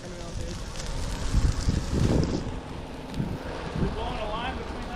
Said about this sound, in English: There's a fire whirl on the edge of it.